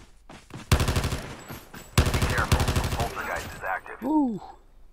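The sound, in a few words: automatic gunfire in Call of Duty Mobile video game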